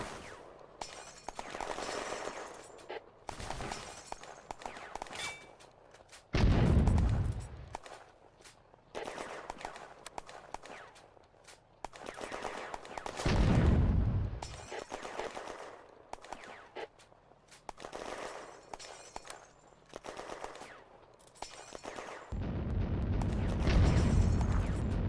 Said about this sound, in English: The guns boom out.